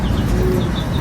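Low, throaty racing pigeon cooing fills a brief moment, close and fairly loud, with soft rustling underneath, as birds return to the loft after a race.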